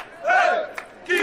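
French and Argentine football fans chant and shout together in the street around a France versus Argentina World Cup match, a short burst of loud massed voices that dips and then swells again.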